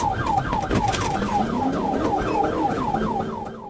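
Police siren wailing in a steady, rapid rise-and-fall pattern during a high-speed car chase, loud and close throughout with engine rumble underneath.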